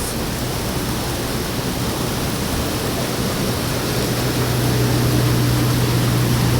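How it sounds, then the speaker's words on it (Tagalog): Continuous rushing water from a small waterfall swollen in a month of heavy rain, a steady broadband roar that grows slightly louder toward the end. "Small falls."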